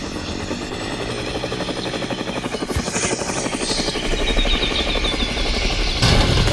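A private helicopter in the Roblox-style game Mad City flies with a steady, loud rotor buzz and whine that swells slightly over time, with no talking.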